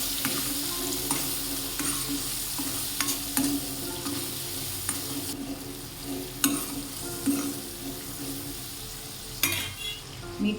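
Drumstick curry with masala paste being stirred in a pan, a steady low sizzle with intermittent scraping and clinks of the spoon against the pan, close and moderately loud, with no voices.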